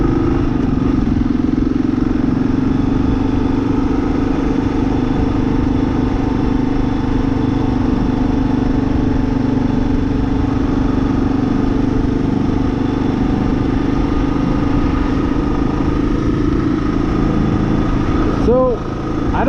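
A 2023 Kawasaki KLR 650 motorcycle engine drones steadily while riding on the road, a constant low throbbing hum with wind rush, loud and close throughout, with a brief bump near the end.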